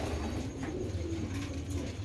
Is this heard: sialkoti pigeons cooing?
yes